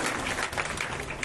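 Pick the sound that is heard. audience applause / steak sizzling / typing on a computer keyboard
audience applause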